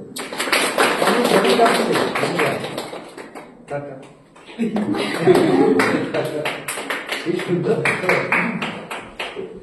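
A group of students claps in a classroom, with brisk sustained applause that briefly dips in the middle and then picks up again, with talking alongside it.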